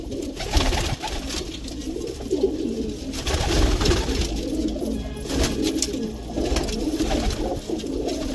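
Pigeons coo in soft, throaty, repeated calls close by, overlapping one another against a steady background hum.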